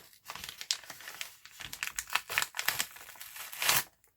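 Close crinkling and crackling of plastic packaging in irregular bursts, with a few tearing sounds as it is worked open.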